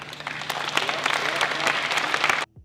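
An audience claps loudly and densely for about two and a half seconds at a basketball event honoring coaches, then the applause cuts off abruptly.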